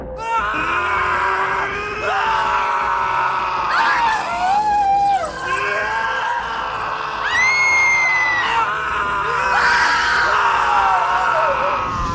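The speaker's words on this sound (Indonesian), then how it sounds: "suara jeritan. Tapi bukan jeritan manusia biasa. Kayak suara jeritanya tuh banyak suara, tapi jadi satu." An eerie, unbroken wall of screaming, as if many voices have merged into one, with wavering shrieks rising and falling for several seconds at a loud, constant level.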